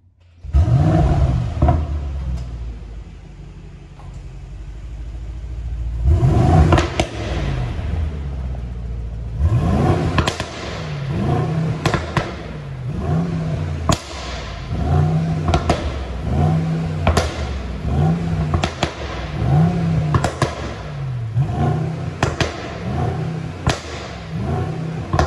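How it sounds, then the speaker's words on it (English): A cold 2021 Mercedes-AMG GLS63 SUV with AMG exhaust and particulate filter fires up with a loud bark, settles to a deep idle, then gives a long series of sharp, rhythmic throttle blips, each rising and falling close by, with no talking. "it's time to demonstrate you the sound of the GLS63 AMG"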